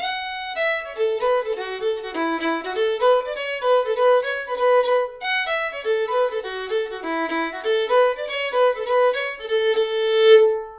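A solo fiddle plays a lively jig, each note bowed separately in a quick, bouncing rhythm, clear and close with no other sounds.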